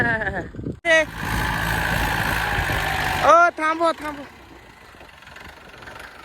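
A tractor engine idles with a steady rumble through most of the clip, while someone shouts briefly over it before the noise fades.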